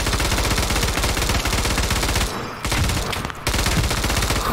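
MG-42 machine gun in the game Operation Harsh Doorstop fires an extremely rapid, ripping stream of shots, loud and close, broken by two short pauses between long bursts.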